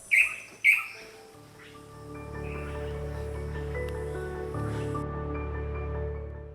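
In Brazil's Atlantic rainforest, two sharp, close bird chirps ring out at the start, then a steady, sustained tonal background carries on to the end.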